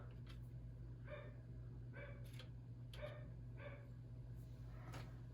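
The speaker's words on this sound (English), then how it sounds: "He's barking at the little animals outside" A dog barks repeatedly, muffled and somewhat distant, in short bursts spaced about a second apart over a steady low hum.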